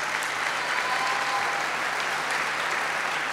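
Steady applause from a large crowd at an official ceremony fills the room, continuous and fairly loud for a few seconds.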